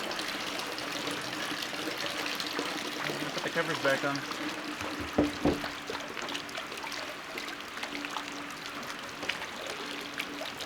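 Water pours steadily into a barrel at an off-grid cabin in the Canadian wilderness, a continuous close trickling flow running the whole time under a man's speech.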